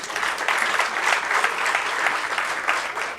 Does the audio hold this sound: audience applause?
yes